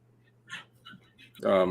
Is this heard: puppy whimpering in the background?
yes